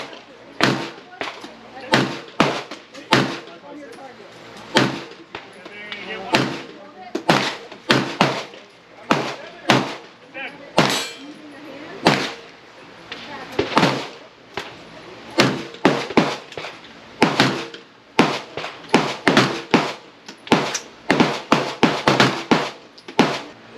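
A Canik Mete MC9 9mm pistol fires a long string of sharp, loud shots at a steady, fairly quick pace, with brief pauses between groups of rounds.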